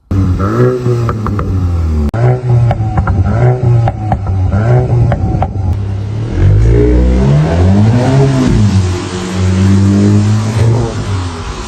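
A Cupra Leon's stock engine revs repeatedly, rising and falling in pitch with loud, close throaty surges, then settles into a deeper roar.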